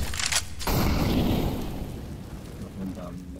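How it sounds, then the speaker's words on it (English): A grenade explodes in the Counter-Strike video game: a sudden loud blast followed by a long rumbling decay that slowly fades over a few seconds. "Grenade."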